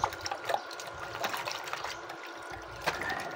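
Water rinsing over a car brake caliper and disc, a steady splashing trickle with a few louder spurts, close by and with no talk.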